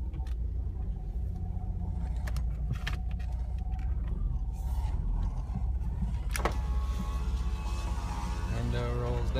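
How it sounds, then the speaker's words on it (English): An electric power window lowering in a 1990 Toyota Land Cruiser FJ62, a faint motor whir over the low idle rumble of the truck's interior, with a few small clicks and a brief thump partway through. "Window rolls down."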